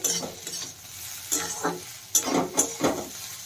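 Oil sizzles steadily in a pan while a utensil stirs and scrapes frying bitter gourd pieces in irregular bursts.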